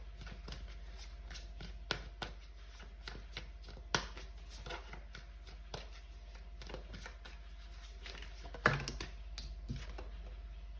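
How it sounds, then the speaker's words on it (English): Tarot cards being shuffled and drawn from a deck, making quiet, close, irregular flicks and soft slaps, with a few sharper snaps over a faint low hum. "We're gonna pull some more cards."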